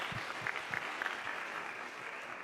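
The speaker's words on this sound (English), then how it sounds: "So that's a round of applause for Hannah and the team." Audience at a summit on combating human trafficking applauds the prosecution team, a steady, even wash of clapping from a crowded hall that continues for a couple of seconds with no voices over it.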